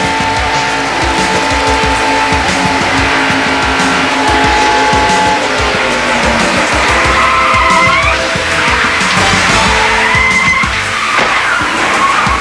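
Heard from inside the car, a race car crashes at over 190 mph. Loud engine roar mixes with skidding and squealing tires, rising sweeps, and rough grinding noise that runs without a break the whole time.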